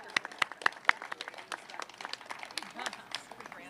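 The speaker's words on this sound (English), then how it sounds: "Would you please give a round of applause to" Audience applause at an outdoor civic gathering announcing a bridge replacement project, scattered sharp claps building into a steady patter of moderate loudness, with some crowd murmur mixed in.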